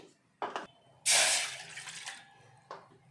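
Water, one and a half cups for rava kesari, is poured into a small bowl in a loud, close splashing rush of about a second, framed by a few light knocks of the cup, with no talking.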